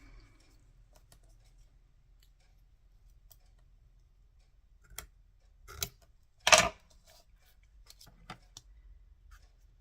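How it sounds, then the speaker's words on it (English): Scissors snipping a paper tag during a craft project, a few sparse, crisp cuts close by in a quiet room, the loudest snip about two-thirds through. "so I have to do some cutting"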